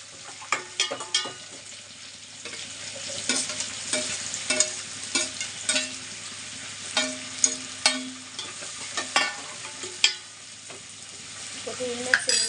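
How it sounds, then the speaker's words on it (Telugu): Tomatoes dropped into hot oil tempering for a brinjal masala curry sizzle steadily, with repeated sharp clacks and scrapes of a spoon stirring the pan up close. "తాలింపు అయిందండి. టమాటాలు వేసుకుంటాను."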